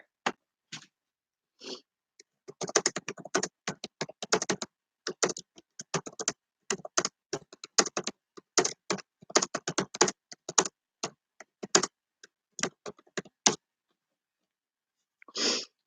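Bursts of typing on a computer keyboard, quick clusters of close key clicks separated by short pauses, then a lone faint tap near the end; no speech.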